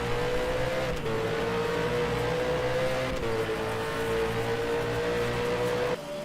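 V8 race car in a racing video game accelerating hard down Conrad Straight at Bathurst, a loud sustained engine drone climbing in pitch through the revs, with two brief dips at gear changes.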